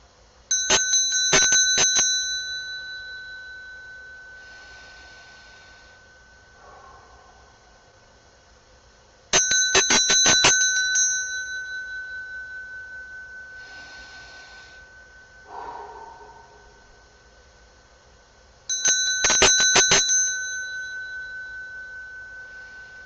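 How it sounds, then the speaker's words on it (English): A bell is struck three times at even intervals, each ring bright and metallic with a long shimmering decay fading toward silence before the next strike, with faint breathing sounds in the pauses. "I'm going to actually play a bell for you"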